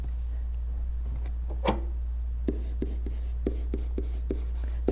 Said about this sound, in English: I'm going to write that in green.